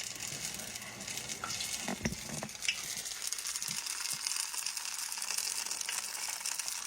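Lacy cornbread crackles in hot grease in a pan with a steady high-pitched sizzle, broken around the middle by a few soft scrapes and knocks from a utensil.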